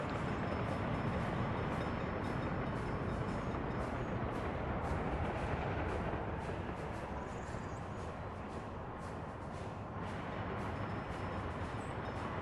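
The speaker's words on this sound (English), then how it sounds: "Let's go and launch the new train." A train running in the Workers & Resources: Soviet Republic game, a steady dense broadband rumble and clatter of rail cars that holds loud and constant throughout, with no voices.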